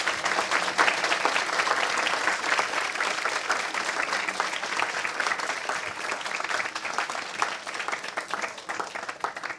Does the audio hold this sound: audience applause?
yes